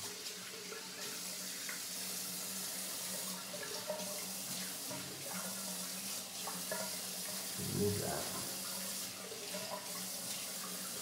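A bathroom tap runs steadily into a sink while water is splashed on the face before a shave with a safety razor, a continuous close hiss with small splashes and no talking.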